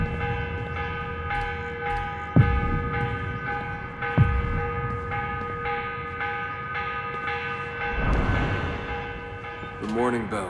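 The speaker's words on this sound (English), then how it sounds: "The morning bell." A morning church bell tolls in Assassin's Creed, repeated ringing strokes with a sustained metallic hum between them and a couple of sharper clangs, with a voice speaking briefly near the end.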